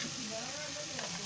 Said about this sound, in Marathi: आता मी त्याच्यामध्ये शिमला मिरची टाकते.